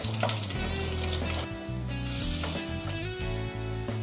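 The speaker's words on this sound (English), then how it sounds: "Once the mustard seeds start sputtering, I am adding 5 to 6 garlic pods and few curry leaves." Mustard seeds, garlic pods and curry leaves crackle and sputter in hot oil for a tadka in a Mangalorean cucumber curry, a loud, continuous close sizzle with sharp popping bursts.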